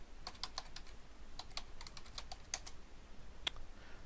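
A password is typed on a computer keyboard at a Windows server logon, producing a close run of quick, irregular key clicks over faint background hum.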